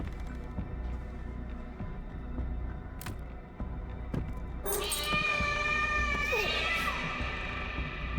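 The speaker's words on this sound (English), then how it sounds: "That's a stock cat sound." A stock cat meow in the video game Layers of Fear Remake, a single drawn-out, wavering yowl rising out of a low, droning game ambience, moderately loud and with no talking.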